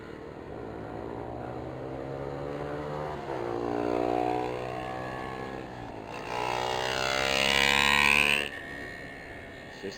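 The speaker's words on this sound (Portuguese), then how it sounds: "Vocês têm um escapamento horroroso," Motorcycles with loud, harsh exhaust passing close by, two rising and falling engine roars, the second louder and sharper before it fades.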